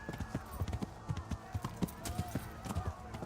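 A horse galloping in the medieval video game Kingdom Come: Deliverance, fast rhythmic hoofbeats close by, thudding steadily through the clip with faint background sound.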